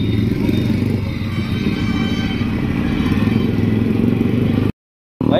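Motorcycles rumble and clatter steadily close by as riders pull away together from a Republic Day rider meetup in Agra, with a continuous loud engine drone that cuts out briefly near the end.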